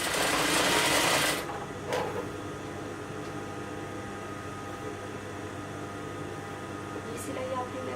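Sewing machine stitching the seam of a pair of trousers, a dense, loud whirring burst for just over a second that stops abruptly, followed by a quiet room with faint clicks.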